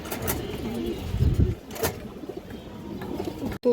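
Pigeons of an old bloodline kept by a Bangladeshi fancier, one a large full-grown bird, give soft low coos that blend with bird chatter and handling noise up close, with a brief sharp click near the end.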